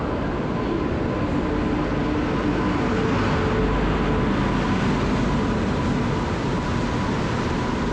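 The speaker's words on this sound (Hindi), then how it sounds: "ट्रेन आ रही है यार, यही होनी चाहिए" Karnataka Express arriving at a station on the Bhopal–Itarsi route, a loud continuous broadband rumble and roar of the passing train, close and steady throughout, with no talk.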